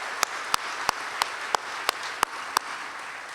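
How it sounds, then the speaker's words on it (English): Audience applause for trustees at a 2019 convocation ceremony, a soft diffuse crowd clapping with a few sharper, louder claps landing at regular intervals near the listener. "Please, everybody, one more round of applause for our trustees."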